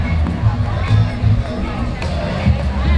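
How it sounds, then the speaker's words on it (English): Crowd chatter at a vendor pop-up event, a steady murmur of many voices with occasional louder talk and clatter close by. "It seems like it's a nice crowd."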